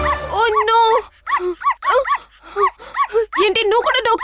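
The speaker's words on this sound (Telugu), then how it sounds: "ఇది మీ డాగి కదా." A pet dog yips and whimpers in a series of high, whining cries and short barks, repeated in uneven bursts at close range, with voices briefly talking at the start.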